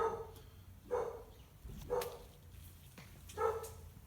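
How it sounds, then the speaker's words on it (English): A security dog barks in the distance, several sharp separate woofs spaced about a second apart against a quiet background. "we've got the security dog going off"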